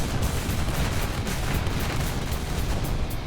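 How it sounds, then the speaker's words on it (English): Naval 5-inch guns fire continuously in War Thunder during an aircraft carrier defence mission, a dense rumbling barrage of overlapping booms and cracks with no break in the noise. "The AI is pretty good with firing those 5-inch guns."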